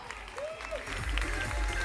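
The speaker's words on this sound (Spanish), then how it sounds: "¡Un fuerte aplauso!" Applause from the crowd at a concert in Alcorcón, a dense wash of clapping with a voice briefly heard over it and low rumble from the venue sound system.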